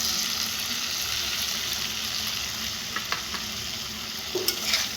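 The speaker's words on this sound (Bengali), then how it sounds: "এখন এখানে অ্যাড করে দেবো আগে থেকে ভেজে রাখা সব ভেজিটেবলসগুলো।" Pre-fried vegetables sizzle in a hot pan with cooked-down spice masala for a vegetable dal dish, a loud, steady frying hiss with a few stirring scrapes and spatters toward the end.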